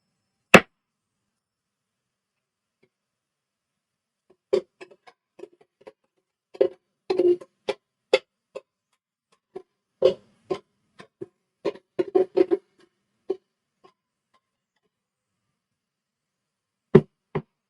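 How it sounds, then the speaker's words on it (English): Frosting for a flourless almond fruit cake is whipped in a bowl, producing sparse, sharp taps and clacks of a utensil against the bowl in irregular bursts, separated by near silence. "And we give it a little whip."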